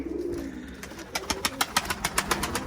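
Released pigeons coo, starting with soft murmuring and building into a rapid run of rhythmic, close-up coos and wingbeat-like pulses.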